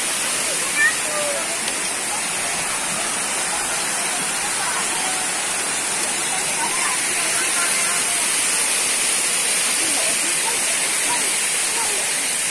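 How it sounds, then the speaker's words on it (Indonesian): River water at Sungai Mudal rushes over rocks like a small waterfall, a steady, loud broadband roar that holds evenly throughout. "Menyusuri sungai, tapi sungainya modelnya seperti air terjun ya teman-teman"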